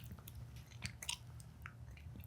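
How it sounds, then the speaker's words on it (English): Someone chewing gum with the mouth moving side to side, soft wet smacking and clicking bursts repeating irregularly, close and quiet with no talk. "Chewing to the right."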